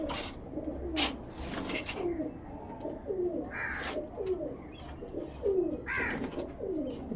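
Teddy pigeons, a male among them, coo from a loft of Punjab-bred Ustad Naeem Bhatti bloodline birds: repeated soft, rolling coos close by, overlapping over a steady low background murmur.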